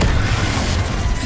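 A Confringo fire blast spell from the Hogwarts Legacy video game goes off as a dense, roaring boom, a steady loud burst of rumbling energy that fills the whole moment without any voice.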